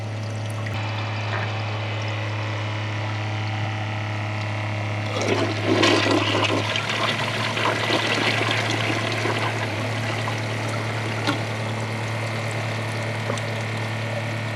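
A Kohler Wellworth Ingenium toilet flushes loudly up close, a steady rushing of water that surges midway and then settles into a long trickling refill.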